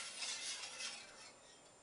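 A metal whisk stirring milk in a pot for homemade oven yogurt, soft rapid scraping and swishing close by, faint and steady, no talking.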